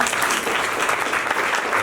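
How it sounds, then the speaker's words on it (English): An audience at an anniversary talk show with former students gives a round of applause, steady and full-bodied throughout, with a crowd murmur mixed in. "Please, a round of applause."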